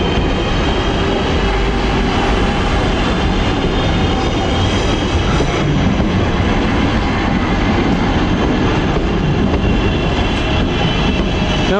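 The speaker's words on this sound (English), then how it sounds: "Oh, and here comes the Wolverhampton train." A Wolverhampton passenger train rumbles past close by, a loud, steady roar of wheels and rail noise filling the whole stretch without letting up.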